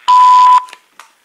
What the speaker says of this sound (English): Leave a message after the tone.